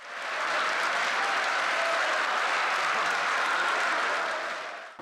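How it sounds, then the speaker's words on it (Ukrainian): Standing ovation in Ukraine's Verkhovna Rada parliament chamber, dense sustained applause from a large crowd filling the hall, steady and loud for several seconds before it is cut off. "І овація стоячи у Верховній Раді під час складання дещицею міністерських повноважень"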